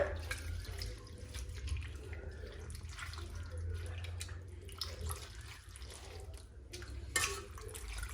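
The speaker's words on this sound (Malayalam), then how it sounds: "വെള്ളത്തിലിട്ടിട്ട് അതിന് ശേഷം നന്നായിട്ട് ഇങ്ങനെ അമ്മക്കി ഒന്ന് കഴുകിയെടുക്കണം." Water sloshes and splashes as cut potatoes are rinsed by hand, with trickling and small drips under a steady running-water background.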